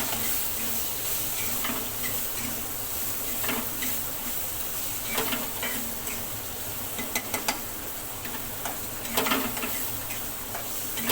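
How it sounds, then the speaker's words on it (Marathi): Spice masala frying in a pan, a steady close sizzle and hiss with occasional scraping stirs and light clinks of a utensil against the pan. "चला आता आपला मसाला पण तळून झाला"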